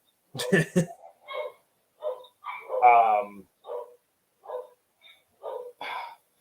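Dogs bark in a run of short, sharp yaps and yips with brief gaps between them. A person clears their throat at the start.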